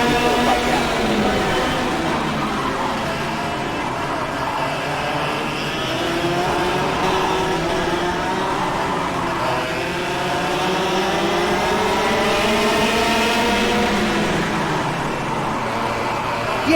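A kart engine in the KartKraft racing game, a buzzing high-revving whine that rises and falls through repeated gear and throttle changes, loud and continuous without talk.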